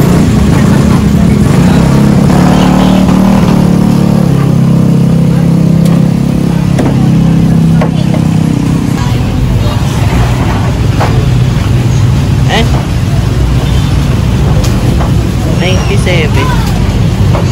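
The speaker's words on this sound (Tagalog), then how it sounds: "Ayan, traffic." Road traffic on a busy street passes close by, with car engines idling and revving and vehicles rumbling past under continuous talk.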